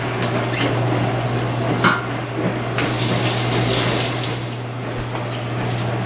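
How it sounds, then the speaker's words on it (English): Hot water runs from a kitchen tap into a large spaghetti pan, a steady rushing stream close by with a brief brighter splash partway through. "fill it approximately 2/3 of the way with hot tap water"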